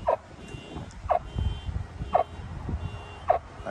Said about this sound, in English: I think someone's alarm's going off.